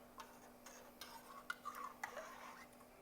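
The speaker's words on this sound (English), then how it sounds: "Go ahead and stir that around." Spoon stirring garlic powder, salt and bay leaves in a cooking pot, giving faint, irregular scraping clinks and taps against the metal over a quiet background hum.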